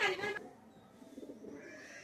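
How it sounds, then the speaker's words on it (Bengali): A Teddy pigeon gives a brief, faint coo, followed by quiet murmuring and background noise. "টেডি কবুতর"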